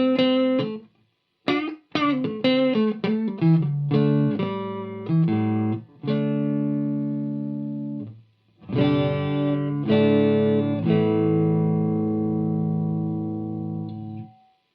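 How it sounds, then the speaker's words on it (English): A clean electric guitar through an amp with the tone knob raised to 7 plays a series of short plucked notes and chords, some clipped quickly and others left ringing out, with brief silent gaps between phrases and no voices. "So you can hear that we've started to kind of get a bit of character out of the guitar now."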